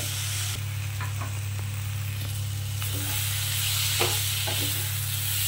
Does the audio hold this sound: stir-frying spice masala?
yes